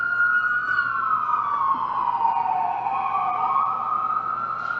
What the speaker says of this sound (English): there's an ambulance going by right now